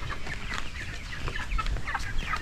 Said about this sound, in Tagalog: Tapos dito naman tayo sa mga alagang 45 days, mga broiler.